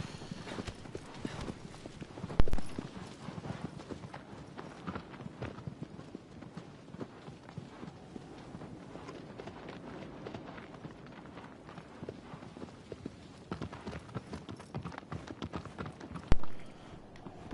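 A horse gallops with rapid, rhythmic hoofbeats in the game Shadow of the Colossus, a steady clip-clop running throughout with a couple of louder thuds, and occasional faint talk.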